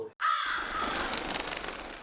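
After a moment of silence, a single long, harsh crow caw rings out loudly and drags on.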